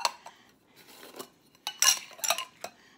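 Small metal salve tins are opened, with a series of close, bright metallic clicks and clinks as lids are pried off and set down, spaced irregularly in a quiet room.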